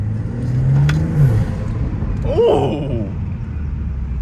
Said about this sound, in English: that boy intake sound crazy